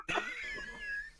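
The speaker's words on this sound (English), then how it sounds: "I've been fighting this sneeze, fighting it, closing my eyes, fighting it." A single short, sharp burst of breath like a stifled sneeze, close to the mic, with a brief tonal tail and no talking.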